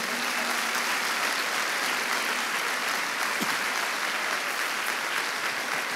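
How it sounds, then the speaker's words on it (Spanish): Steady, full applause from a church congregation during a sermon, an even wash of many hands clapping that continues unbroken without speech. "¿Cuánto le da un aplauso al Rey de Reyes?"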